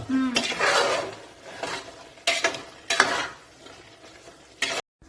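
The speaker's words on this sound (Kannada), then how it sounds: "ಇವಾಗ ಸ್ವಲ್ಪ ಬಿರಿಯಾನಿ ಮಸಾಲೆ ಹಾಕ್ತಾ ಇದ್ದೀನಿ ಇದೊಂದು ಸ್ವಲ್ಪ ಟೇಸ್ಟ್ಗೆ ಅಷ್ಟೇ ಅದಾಕ್ಬಿಟ್ಟು ಮಿಕ್ಸ್ ಮಾಡಬೇಕಾ" Chicken biryani being stirred in a pot after biryani masala goes in, with a few bursts of spoon scraping against the metal pot and a soft sizzle between them, close and fairly loud.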